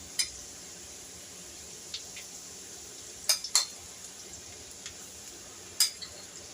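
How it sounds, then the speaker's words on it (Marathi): Peanuts fry in previously used hot oil for masala peanuts. A soft, steady sizzle runs throughout, broken by a few faint sharp clicks and taps. "त्यातच मी हे शेंगदाणे तळून घेणार आहे"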